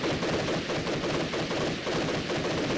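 Rapid automatic gunfire from a weapon in the video game After the Flash: Mirage. The loud, continuous burst runs unbroken through the whole stretch, with no talking.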